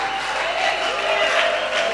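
A church congregation applauds steadily. The clapping forms a dense, even wash of many hands that holds a level volume and runs without a break.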